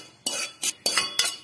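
A metal spoon stirs chopped garlic in coconut oil inside a pressure cooker, giving four quick scraping clinks at an even pace, close and clear, with no talk.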